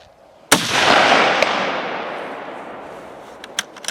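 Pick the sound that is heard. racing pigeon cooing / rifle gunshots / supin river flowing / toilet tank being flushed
rifle gunshots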